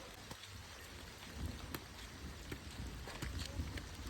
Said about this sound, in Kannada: ಒಳ್ಳೆ ಮಳೆ